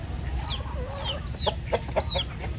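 A hen clucks near a coop, back with her newly hatched chicks, giving several short clucks and rising chirps over a steady rustling farmyard background, with no talk.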